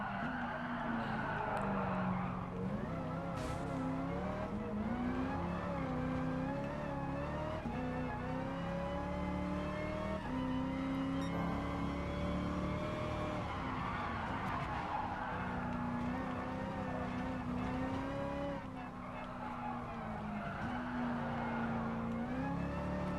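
A race car engine in Gran Turismo Sport revs hard at full throttle, holding a loud, steady, rising whine with repeated gear-shift dips and climbs, close and continuous throughout with no talk.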